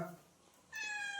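A cat gives one close, fairly loud meow, a short drawn-out call that follows a brief softer sound.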